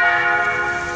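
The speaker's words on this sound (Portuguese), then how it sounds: "Escutem as badaladas do sino" Church bell of São Lourenço parish ringing, a loud, sustained metallic tone with rich overtones that hangs steadily for the whole moment, with no voices.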